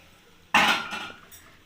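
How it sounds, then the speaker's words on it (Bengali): A metal lid comes off a pot of chicken pulao cooking on a gas stove, a single sharp scrape and clatter followed by a short fading rattle in a quiet kitchen. "এবার ঢাকাটা খুলে দেখে নেব।"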